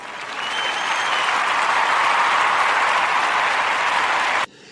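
An audience applauds in a steady, dense wash of clapping that holds for over four seconds and then cuts off abruptly.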